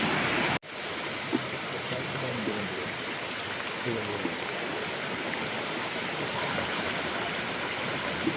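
Continuous rushing of floodwater flowing into a house, close and steady, with faint voices murmuring beneath it after a brief cut at the start.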